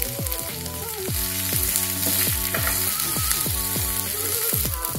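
Potatoes and coriander sizzle in a hot pan for a fasting-style potato bhaji, a steady close crackle with rhythmic stirring and scraping, and no talk.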